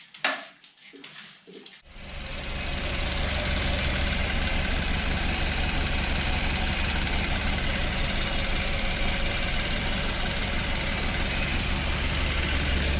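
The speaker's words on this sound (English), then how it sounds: "The engine seems to run okay." A rebuilt BMW car engine starts after a few brief clunks and then settles into a loud, steady, close idle that hums evenly for the rest of the stretch.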